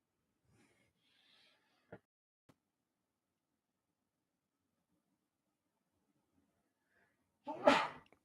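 A single sharp, loud sneeze bursts out near the end after a long, quiet pause broken only by a few faint small noises.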